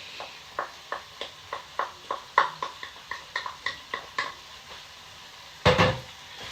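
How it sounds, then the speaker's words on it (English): Rice being folded into sweated onions in a pan, a close series of rhythmic scraping spoon strokes about every third of a second over a light sizzle, ending in a louder clatter. "Now what we're going to do is we're going to fold in our rice here"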